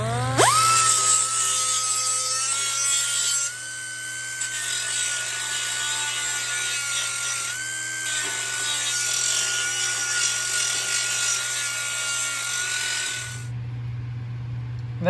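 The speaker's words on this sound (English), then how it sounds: "I'm going to grind all this paint off of here and reveal where the spot welds are" A power grinder strips paint from sheet metal to expose spot welds, giving a loud, sustained high whine from spin-up to shutdown, with slight pitch dips as it presses into the panel.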